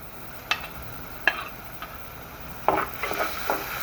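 Garlic, ginger, curry leaves and rampe fry in a pan for a Sri Lankan mango curry. A soft sizzle runs under a few sharp utensil taps and scrapes, then busier stirring near the end.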